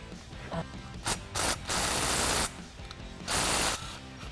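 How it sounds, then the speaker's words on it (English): A ratchet turns engine bolts through an additional 125 degrees after they are torqued to 59 foot-pounds. Several close bursts of rapid clicking come one after another, with one longer sustained run, and no voices. "now we're tightening it the additional 125 degrees."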